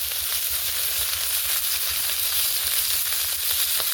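Fish being flipped all at once in a hot wok of oil, giving a continuous dense sizzle and hiss at an even level for the whole stretch.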